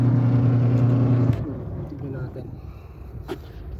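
A noisy washing machine with a gearbox fault, a loud steady humming drone with strong tonal whine that suddenly cuts off, leaving quieter mechanical rattling and clunks, heard up close.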